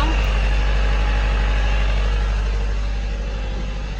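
Sailboat motoring under engine power off the coast of Maine, a loud, steady low diesel-like drone with an even throb that barely changes throughout.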